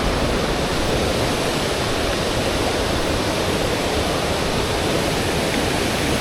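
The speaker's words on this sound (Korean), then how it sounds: "와, 여기도 예쁘네. 실폭포." A thin mountain waterfall in a rain-soaked valley, with water pouring down in a loud, steady, unbroken rush that fills the whole scene and has no voices over it.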